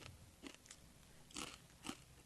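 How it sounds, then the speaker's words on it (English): A person bites and chews a crunchy anchovy, with a few faint, close crunches scattered over a quiet background and no talking. "He's eating the anchovy right now."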